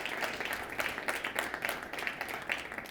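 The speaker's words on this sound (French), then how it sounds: "on applaudit les 3 finalistes des prix littératie numérique jeunesse" An audience at the MTL Tech Awards gala in Montreal applauds the finalists with dense, even, continuous clapping from many hands, fairly distant and moderate in level, with no pauses.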